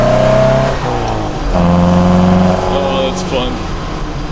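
Opel Manta A engine fitted with twin Weber DCOE 40 carburetors revs in sharp throttle blips, rising and falling close by, while a person talks over it.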